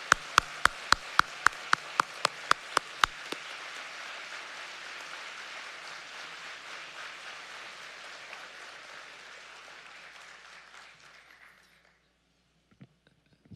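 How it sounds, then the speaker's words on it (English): Warm round of applause from a benefit gala audience honoring Japanese American National Museum volunteers, opening with a dozen loud, evenly spaced claps before dense crowd clapping swells, holds, and gradually fades to silence with a few stray final claps. "Let's give them a big, warm round of applause."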